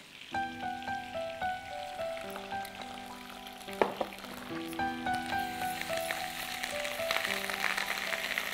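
Steady sizzling and bubbling of spices with garlic and ginger paste in a hot pan, with a soft stir or clink partway through, close up, while gentle music plays alongside.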